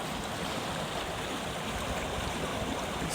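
House Water, a Somerset stream running high with floodwater, pours past at close range in a steady, dense rush of water that holds level throughout with no voices.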